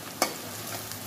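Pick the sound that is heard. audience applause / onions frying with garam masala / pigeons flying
onions frying with garam masala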